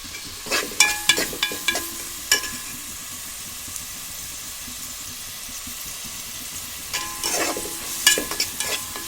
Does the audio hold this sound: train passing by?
no